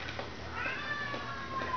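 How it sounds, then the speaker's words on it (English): An old male house cat gives a close, drawn-out meow with a soft rumbling purr beneath it, heard alone at moderate volume in a quiet indoor room. "Listen to that purr."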